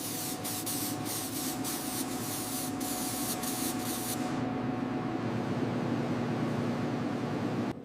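Steady, close spray paint hissing continuously as a second coat goes onto a wolf-themed monster truck during restoration, its high airy band cutting off midway and leaving lower hiss beneath.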